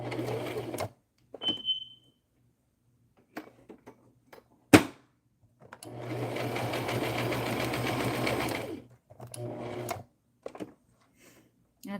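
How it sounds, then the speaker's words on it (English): A sewing machine runs a zigzag stitch around paper sentiments in a craft project, with a few short bursts and then one long steady whirring run close by, separated by quiet gaps and faint handling noises. "I'm just gonna do a zigzag stitch around my sentiments."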